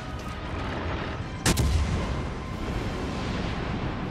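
Naval gunfire in the World of Warships video game comes as one sharp, loud blast over a constant rumbling background of game noise.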